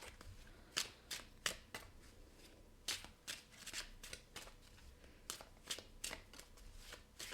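Tarot cards are shuffled by hand in a quiet room, a series of soft, close riffling bursts and taps coming at irregular intervals.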